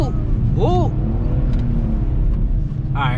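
A BMW E46 slides through snow, its engine holding a steady low drone close by while someone talks and lets out excited exclamations over it.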